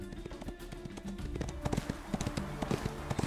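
Horse hooves clip-clop in the Ostwind horse-riding video game, a fast run of light, close taps over a steady low backdrop with no talking.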